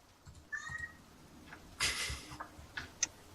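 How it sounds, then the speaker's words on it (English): A cat meows softly near a microphone indoors, giving several short, faint mews over a quiet background, then one louder, brighter meow in the middle and a sharp chirp near the end. "Don't meow into the mic."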